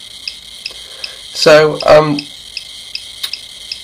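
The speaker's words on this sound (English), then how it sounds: "changed the LED from here to a buzzer, and you can hear it ticking right now" A buzzer on a 433MHz RF receiver circuit ticks with short, regular clicks about every third of a second, steady and close, while someone briefly speaks partway through.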